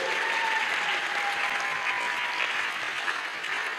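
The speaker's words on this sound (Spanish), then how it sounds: "Un aplauso entonces al Señor" A church congregation applauding, a sustained wash of many hands clapping at steady loudness for several seconds, with no voice standing out.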